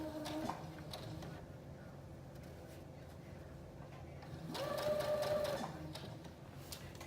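A sewing machine runs in a short burst, slowly stitching a narrow edge on a wrap dress, then stops. Low workshop hum fills the gaps before and after the run.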